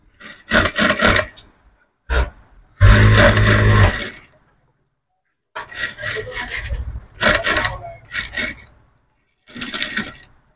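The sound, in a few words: sewing machine stitching a V-neck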